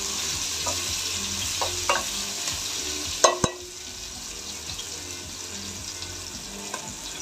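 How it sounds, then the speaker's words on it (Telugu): Tempering for veg biryani frying in a pan on low gas, stirred with a utensil: a steady soft sizzle with a few scraping clinks and a louder knock near the middle, no voices. "ఇది పచ్చివాసన రాకుండా కొంచెం కలుపుకోవాలి"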